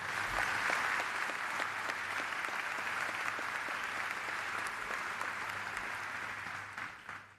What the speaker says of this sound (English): Give our faculty a big round of applause